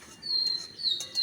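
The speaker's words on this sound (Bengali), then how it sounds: "পাখি ডাকছে পাখির আওয়াজটা তোমরা নিশ্চয়ই শুনতে পাচ্ছ" Birds chirp in the early morning outdoors, a few brief high tweets over a soft quiet background, fairly close, with no voices.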